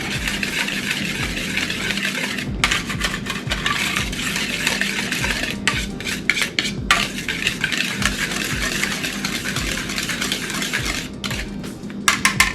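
A spoon works steadily through dry strawberry cake mix and gelatin powder in a bowl, a continuous close scraping and rustling with occasional sharper clinks against the bowl, breaking up lumps.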